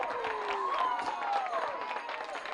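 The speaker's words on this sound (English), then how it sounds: "Good crowd of Tropic fans here. You can hear them out there cheering" Tropic fans cheer and clap at a Babe Ruth state baseball tournament game, a distant crowd roar that rises and falls beneath a commentator's talk.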